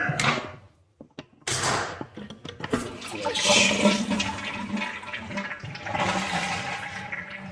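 A toilet flushes, with the water supply turned off, in a loud rush and gurgle of water, swirling and draining for several seconds before settling into a steady refill hiss.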